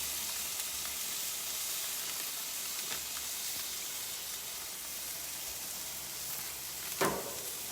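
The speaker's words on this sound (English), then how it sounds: "Ooh, sizzle, sizzle." Swordfish steak about an inch thick sizzles steadily on a grill as marinade is brushed on, a constant close hiss with a brief louder flare near the end.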